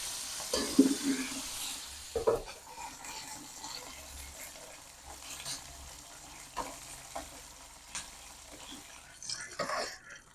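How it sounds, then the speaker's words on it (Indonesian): Sambal chili paste frying in a pan, with soft, intermittent sizzling and stirring scrapes close by, fairly quiet and without talk. "di sebelahnya ini lanjut mau goreng sambal"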